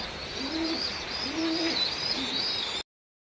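Soft, low cooing of pigeons repeats in three rhythmic phrases, close by, on a rainy day, over a steady background hiss with no talking.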